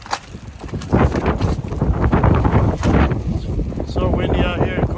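Strong, cold wind buffets the microphone at a frozen roadside during a tyre change, a steady rough roar with gusts throughout.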